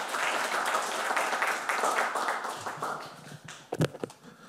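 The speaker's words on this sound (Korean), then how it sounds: "위원장님께 큰 박수 부탁드립니다" Audience applause at a carbon-neutrality technology forum: a full room claps steadily, then the sound thins out and ends in a few close, isolated knocks or taps near the end.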